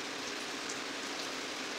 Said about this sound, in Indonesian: Apalagi sekarang hujan.